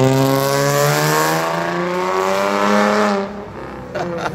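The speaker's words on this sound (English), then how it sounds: "The old grumbly V6." A 2012 Dodge Charger with a V6 engine pulls away. The rising, grumbly engine note is loud and close at first, then fades quickly as the car drives off.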